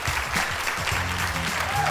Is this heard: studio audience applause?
yes